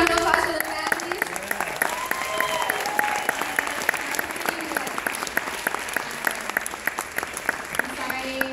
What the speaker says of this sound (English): Can I get a round of applause for the family?